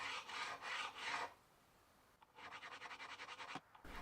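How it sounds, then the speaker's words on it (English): A StuMac diamond Z file crowning guitar frets: two bursts of rapid back-and-forth rasping strokes, close and crisp, split by a short quiet pause. "For the initial crowning, I'm using the Z file from StuMac."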